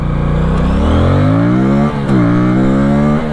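An Aprilia Tuono 457 motorcycle engine revs hard and close, pitch climbing steeply through the gears with a brief dip at a shift, while the front wheel lifts into a wheelie.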